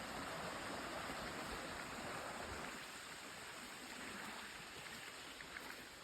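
Water flows steadily from an upper pond down into a lower pond in the Eastern Ontario bush, a continuous broadband rush that stays fairly even and faint throughout.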